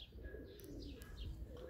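A raised domestic pigeon coos softly nearby, with a few faint chirps over a quiet background.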